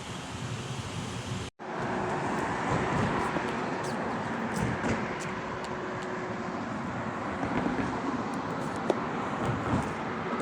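Steady dense road traffic in Unaizah, Saudi Arabia, a continuous broadband rumble of passing cars at a busy roadside, nearly uninterrupted apart from a brief dropout near the start.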